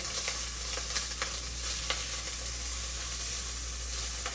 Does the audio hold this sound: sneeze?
no